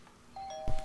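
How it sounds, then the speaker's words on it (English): A doorbell rings once in the video game Little Misfortune, a clear bright electronic chime with a sustained tone followed by a brief thud. "Let's ring the bell like civilized people."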